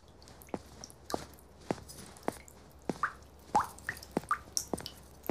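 A faulty kitchen tap drips steadily, with about a dozen sharp, close water drops falling at uneven intervals over several quiet seconds, and nobody speaks.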